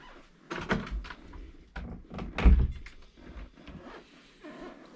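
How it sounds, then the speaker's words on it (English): An interior door is pushed shut in an old inn during a night-time paranormal investigation, giving a loud wooden thunk in the middle of the clip amid softer knocks and rustling nearby. "You can shut that door."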